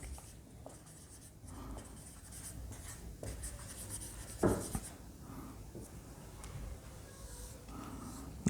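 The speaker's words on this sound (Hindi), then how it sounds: "इन दोनों रिलेशन को कंबाइन करने तो यहाँ पे वर्डिंग लिख लेंगे" Someone writes on a board during a physics lecture, giving soft, continuous scratching strokes, faint and close, with quiet breathing and a small knock midway.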